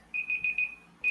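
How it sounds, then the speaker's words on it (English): A timer alarm goes off with a series of shrill electronic beeps in a quick, evenly spaced rhythm, close and clear with nothing else heard. "so that's the timer right there"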